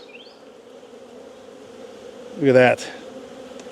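Honeybees hum in a dense low drone around an open, overcrowded nuc hive ready to swarm, steady and close throughout, with a short burst of a voice near the end.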